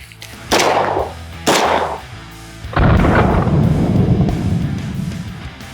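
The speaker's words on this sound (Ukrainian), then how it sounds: "Зараз стріляємо звичайною кулею." Gunshots of regular bullets fired at an Ukrarmor armor plate in an outdoor test: two sharp close reports about a second apart, then a third heavier blast with a long rumbling tail.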